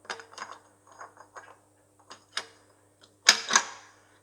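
Metal parts of a Massey Ferguson 135 six-speed gearbox clink and click as a gear selector is fitted, a sparse series of small taps and ratchety clicks ending in two sharper metallic knocks, close and quiet.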